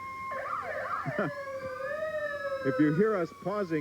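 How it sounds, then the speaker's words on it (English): Police escort sirens wail with steady rising and falling tones at a 1985 St. Paul Winter Carnival parade beside Rice Park, loud and continuous while someone talks over them. "it's a little bit difficult with all these sirens to hear even yourself think"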